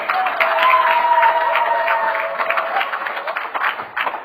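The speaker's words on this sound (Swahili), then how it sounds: "Pigia makofi Yesu Kristo" A church congregation claps together in a sustained, dense burst of applause, loud and steady throughout with a few cheers and voices mixed in.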